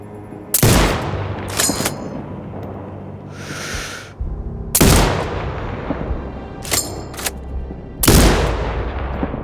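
Sniper rifle shots in Sniper Ghost Warrior Contracts 2: loud, sharp single cracks, four main shots spaced a few seconds apart, each with a booming tail, plus lighter mechanical clicks between.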